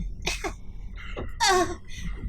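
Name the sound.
coughing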